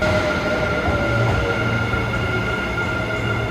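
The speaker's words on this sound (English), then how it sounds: "From here, we took a pretty short train ride to Osaka" Interior rumble of a train riding from Nara to Osaka, Japan: a steady low rolling drone with faint humming tones and a continuous hiss, no distinct clacks, alone without speech.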